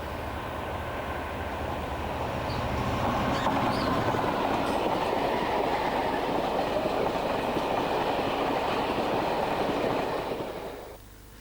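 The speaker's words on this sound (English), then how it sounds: "This is the Burngallow to Warrington China clay train," The Burngallow to Warrington china clay freight train rolls past. Its rumble builds over a few seconds, holds as a steady roar with faint wheel clatter, then drops away at the end, with no voices.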